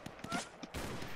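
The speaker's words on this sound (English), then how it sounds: "Where is that shooting coming from?" Rapid bursts of video game gunfire crack through the short clip, several distinct shots followed by a denser volley, with a voice briefly audible under the shooting.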